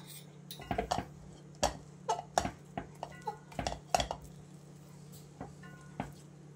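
Wheat flour dough is mixed with ghee in a pot, giving a quiet run of close, irregular clinks and soft scrapes of a utensil against the pot.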